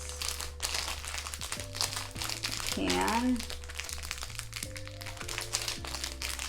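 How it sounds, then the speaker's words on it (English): A plastic refill pack of Japanese skin care product crinkles and crackles as it is handled and pulled at, close and busy throughout, with a person speaking briefly over the rustling. "this right here is a refill pack. I thought, why not get the refill? So I'm going to go ahead and open that."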